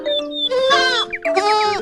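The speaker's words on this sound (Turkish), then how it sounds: "şu geçen keçiyi gördünüz mü?" A goat bleats loudly and close, a few wavering, quavering cries in quick succession.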